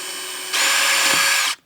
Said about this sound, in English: we're going to try with a small drill bit first